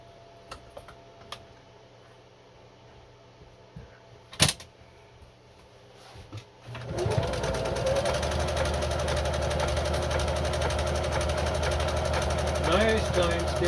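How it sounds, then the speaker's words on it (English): A Singer Genie sewing machine runs a full-width zigzag blind stitch, its steady close motor whir and rapid needle clatter starting after a few faint clicks and a bump and continuing unbroken. "Full zigzag width, and here we go."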